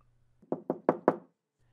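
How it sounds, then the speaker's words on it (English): Four firm knocks on a door in a steady, even rhythm, close and clear in an otherwise quiet room. "if someone came knocking on your door"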